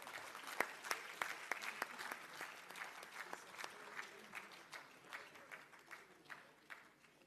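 Audience at an annual sessions gathering giving a round of applause, scattered distinct claps at a moderate distance that gradually thin out over several seconds.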